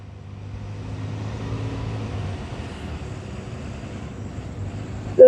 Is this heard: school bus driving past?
yes